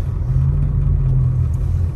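Cars crawling at about 10 mph through snowy traffic at Big Bear Lake, California, give a steady low engine and road rumble, close and continuous with no talk.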